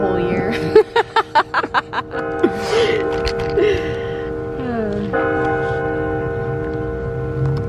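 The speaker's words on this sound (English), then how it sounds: "You don't realize how long that bell is until you're filming a podcast." A bell rings repeatedly with sustained, overlapping tones, while people gasp and laugh softly nearby; the ringing carries on as a steady resonant hum.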